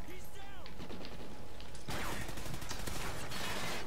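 Rapid gunfire from a Call of Duty Ghosts multiplayer match, with a dense burst of automatic shots filling the second half and a voice talking over the earlier part.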